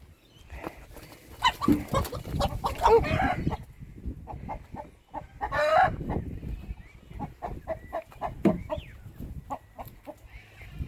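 Chickens and a rooster cluck and squawk in irregular bursts as they are handled and moved into a pen, near and fairly loud, with brief flurries of agitated calls.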